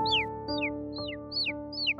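Cartoon jay calling in a children's story: five harsh, evenly spaced squawking calls about half a second apart, heard over a sustained musical drone.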